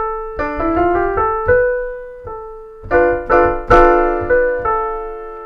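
A D Dorian minor scale with its raised sixth, played as distinct bright, sustained notes in an uneven rhythm. A few notes run quickly, there are short pauses, and a louder accented note comes near the end. No talking.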